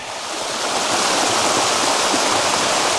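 Sticky Waterfall near Chiang Mai, Thailand, roars as a loud, continuous broadband rush of falling water, close and steady throughout.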